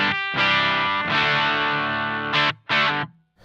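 Distorted electric guitar played through a Love Pedal Woman-Tone pedal turned to low volume, giving a thinner tone; sustained loud chords followed by two short stabs, with no talking.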